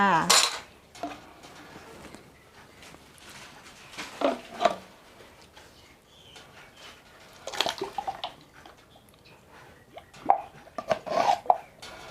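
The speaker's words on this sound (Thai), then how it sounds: "เมื่อผสมเข้ากันดีแล้ว เราก็เทใส่ภาชนะที่เราเตรียมไว้เลยค่ะ" Egg and fresh milk mixture poured into a prepared container, heard as intermittent splashes, plops and clinks of utensils against vessels, fairly close with quiet gaps between.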